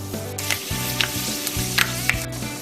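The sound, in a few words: fenugreek seeds frying in hot oil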